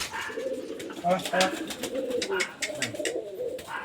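Pet pigeons coo softly and repeatedly at close range, their low throaty calls overlapping while a person talks nearby.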